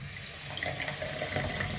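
Water runs through a newly fitted pressurized water line in a winery, a quiet, steady rushing hiss like an open tap, heard alone for under two seconds.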